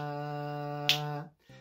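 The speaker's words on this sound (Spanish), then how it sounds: "Cada chasquido es un tiempo" A single finger snap marking a beat in a home music lesson, one sharp crack cutting across a sustained, steady held musical tone that then breaks off and briefly resumes.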